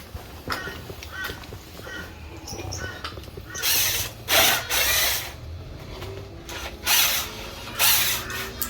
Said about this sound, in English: screw gun. Better than any others that I've ever used.